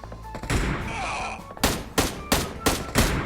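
Gunfire in PUBG Mobile on the Erangel map, with a burst of noise followed by five sharp, evenly spaced loud shots, each ending in a short decay.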